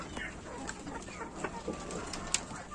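Ornamental hens, including a feather-footed breed regrowing its plumage, cluck softly inside a coop, with faint scattered calls and a busy low background and one sharp brief peak near the end.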